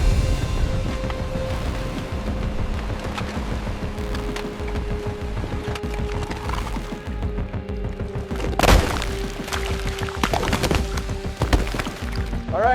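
King crabs tumbling out of opened cages onto a steel boat deck, a dense run of hard clattering knocks and thuds, loud and close, with a few heavier clangs standing out amid a continuous mechanical hum.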